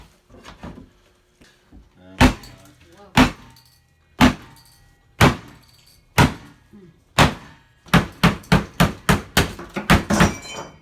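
Sharp hammer blows ring out during kitchen countertop installation, spaced at first and then landing in a quick rapid burst near the end, close and loud with no talking.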